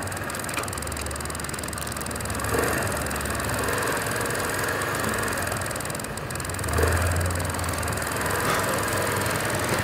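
A motorcycle engine runs steadily on a road trip from Nayarit to Jalisco, a continuous low rumble with slight swells in loudness and no talk over it.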